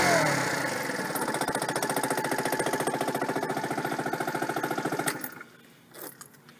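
A motorcycle idles close by with a rapid, even, slightly lumpy putter for about five seconds, then cuts out, leaving near silence with a faint bump.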